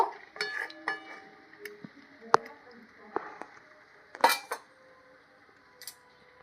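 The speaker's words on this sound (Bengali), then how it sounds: "ভেজে রাখা কোপ্তাগুলো দিয়ে দিচ্ছি ভালো করে এখন ফুটিয়ে নেব" Fried fig koftas dropped into a cooking pot, with sharp metallic clinks and knocks of a spoon against the pot scattered over a low background, and a voice briefly audible.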